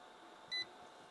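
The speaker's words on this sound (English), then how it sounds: "you'll actually hear a beep, and that beep will indicate that your brew is done" A short electronic beep from an xBloom pour-over coffee brewer signalling the brew is finished, a single tone of about a tenth of a second standing out clearly above faint room hiss.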